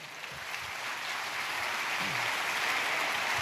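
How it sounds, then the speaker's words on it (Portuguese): A church congregation applauds in a steady, dense wash of clapping that swells slightly and holds throughout, heard from within the room. "Você pode aplaudir o Senhor?"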